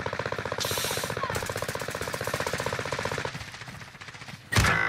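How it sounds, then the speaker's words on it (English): Rapid gunfire bursts in an online shooter game, a dense rattling volley of shots running for several seconds, then a quieter gap and a sudden loud crack near the end. "I got sniped from the hill team"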